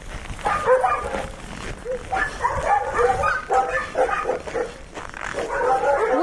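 A pack of hungry dogs at an outdoor feeding spot in the cold barks and yips continuously and close by, many overlapping voices with occasional whimpers, loud and dense throughout.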